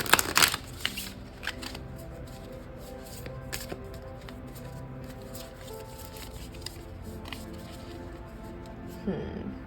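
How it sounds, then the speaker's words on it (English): Tarot cards riffle and slap softly in a burst at the start, followed by quieter intermittent shuffling and tapping, with another brief riffle near the end. "let's shuffle the deck again"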